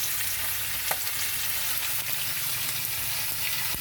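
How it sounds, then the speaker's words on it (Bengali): Panch phoron and two bay leaves crackle in hot oil as a loud, dense, continuous sizzle close up, with a couple of faint pops and no talking. "এই যে পাঁচ ফোড়ন আর দুটো তেজপাতা দিয়ে দেবো"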